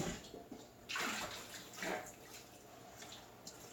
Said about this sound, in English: I want to rinse the bowl out a little bit just to make sure the residue's out of the bottom